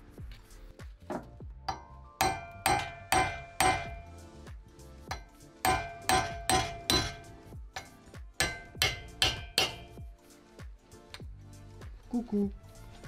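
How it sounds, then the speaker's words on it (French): A small hammer striking a chisel on a brake bearing of a turbo Miata gives sharp metallic clinks and pings in quick bursts of blows, close and ringing, with someone talking at times. "Petit burin, petit marteau."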